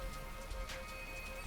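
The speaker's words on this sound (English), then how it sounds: "This rain stuff really sucks. It's like a giant leaky shower that just won't shut off." Rain in the video game The Hundred Line: Last Defense Academy, a faint, steady patter of raindrops on surfaces, brief and continuous with no voices.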